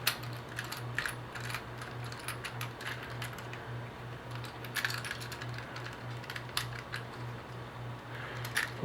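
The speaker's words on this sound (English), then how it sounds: "screwdriver. Let's go ahead and loosen these guys up here." A screwdriver loosens connector screws on wiring for a temporary RV generator hookup, giving faint scattered small metallic clicks and scrapes over a steady low electrical hum.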